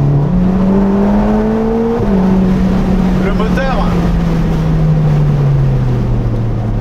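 A Ferrari Roma Spider's turbocharged engine pulls hard, its pitch rising, dipping at a shift, then climbing steadily again, with a brief voice heard over the roar.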